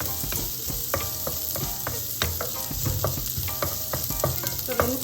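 Small onions sautéing in a pan for vendhaya keerai kootu, a steady close sizzle with frequent sharp scraping clicks of a spoon stirring, no voices.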